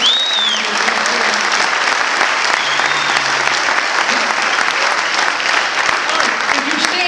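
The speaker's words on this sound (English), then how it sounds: "Would you give a round of applause?" A large conference audience applauds continuously and loudly, a dense steady wash of clapping from many hands throughout.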